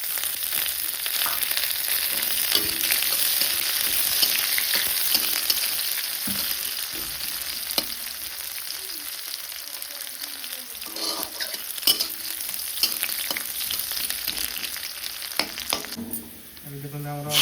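Oil sizzles and fries steadily in a pan while an eggplant bharta is cooked at home, a continuous close hiss with occasional clinks of a utensil against the pan.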